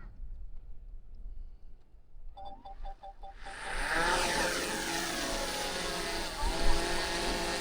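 A DJI drone launching: after a quiet start and a few short beeps, the rotors spin up into a loud, steady high-pitched buzzing whine that holds nearby.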